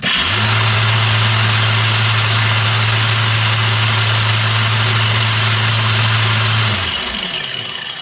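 A Leader 20V 125 mm cordless angle grinder runs at full speed with a steady, loud motor whine heard alone, then winds down near the end.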